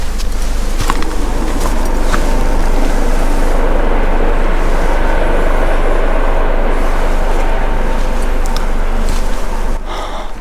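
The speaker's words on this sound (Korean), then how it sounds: "어디서 사고가 났는지 헬기 소리가 점점 가까워집니다" A helicopter approaches over Bukhansan mountain, a loud, continuous broadband rotor roar and rumble that holds steady throughout, close and unbroken, with no talk.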